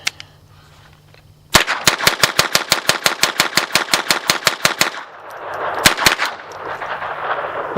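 AR pistol fitted with a CMMG .22LR conversion kit fires a rapid string of about twenty sharp, loud shots in quick succession, then pauses, followed by two more shots amid outdoor background noise.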